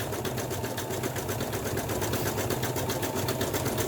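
Sewing machine stitching the front of a bag, a steady fast mechanical whir with rapid even needle ticks running continuously and fairly close, with no talking.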